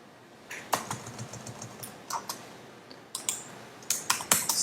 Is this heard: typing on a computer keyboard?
yes